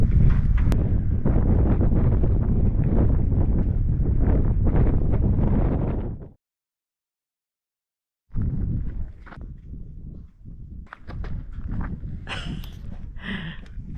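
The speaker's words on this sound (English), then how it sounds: "And just in time for the wind to pick up too." Wind gusts across a microphone outdoors at an off-grid pole barn house build, a loud low buffeting rumble that cuts off abruptly, then returns after a couple of seconds of silence in rougher, more uneven bursts.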